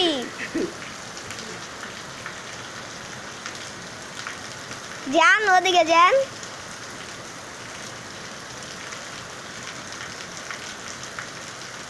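Steady rain pours down outdoors, a continuous dense hiss that lasts throughout, with a person briefly speaking over it partway through.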